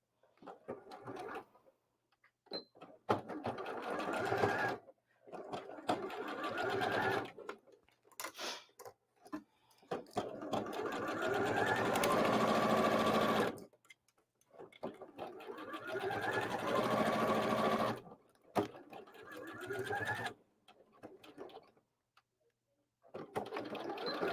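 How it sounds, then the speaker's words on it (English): A Bernette B38 sewing machine stitches a half-inch seam in several long runs of steady, fast mechanical whirring. Short pauses come between the runs, and a voice speaks in some of the gaps. "I'm using my Burnett today. B38 is the name of this machine."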